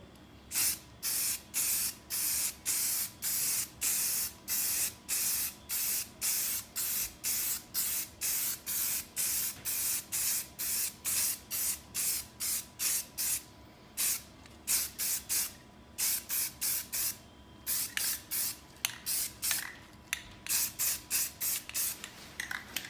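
Aerosol can spraying sandable primer onto hubcaps in light coats, a long series of short, close hissing bursts separated by brief pauses.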